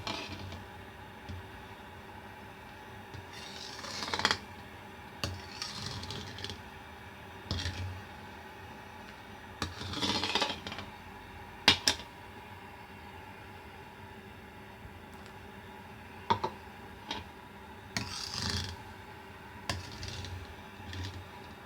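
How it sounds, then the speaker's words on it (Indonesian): Soy milk stirred in a pot for homemade tofu, a spoon scraping and knocking against the metal in scattered irregular bursts over a steady low background hum, close and moderately loud. "Kita akan aduk terus kalau benar-benar lihat airnya ya, ini masih susu kedelai."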